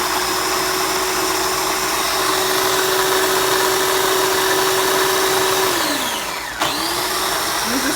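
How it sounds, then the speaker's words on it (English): A blender grinds hummus into a paste with a steady, loud whirring drone that holds for several seconds, then winds down sharply and briefly restarts. "So you can keep scraping it down and blending it until it's kind of a paste"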